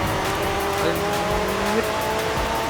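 A McLaren 12C brakes hard in the Forza Horizon 5 racing game, its tires squealing in rising and falling tonal whines over a steady, loud engine roar for about three seconds.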